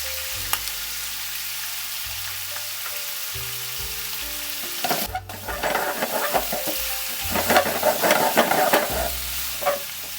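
Ginger being stir-fried in a hot pan for a beef udon dish, a loud continuous sizzle with bursts of spatula scraping and tossing, no voices.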